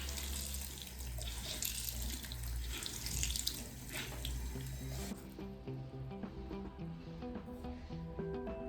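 Tap water runs steadily into a sink while paint brushes are washed, a close, continuous splashing stream that eases and thins toward the end.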